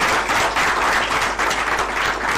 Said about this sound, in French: Est-ce qu'on peut applaudir pour l'artiste?